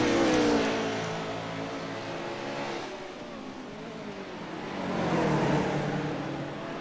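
A race car engine revs and drones steadily in a sim racing game, rising and falling in pitch as the car struggles for grip in a drifting slide, loud and continuous with no voices.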